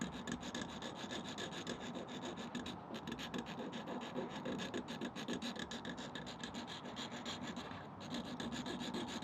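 A titanium watch case edge being deburred, the case turned while a tool works around it, gives a quiet, continuous, even rasping scrape with no talking.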